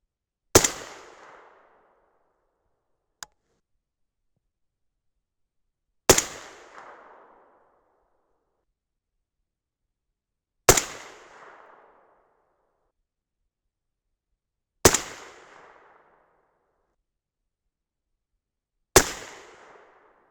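Five sharp, loud rifle shots from a 6.5 Grendel firing 135gr Berger Classic Hunter loads, each a hard crack followed by a short fading rumble, spaced about four seconds apart, with one faint click between the first two.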